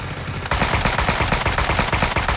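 AKM assault rifle fire in the game Sausage Man begins abruptly after a short lull, with a rapid, loud, sustained burst of automatic shots in a tight repeating rhythm.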